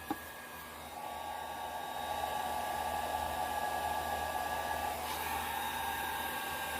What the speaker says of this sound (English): So I'm going to get my blow dryer ready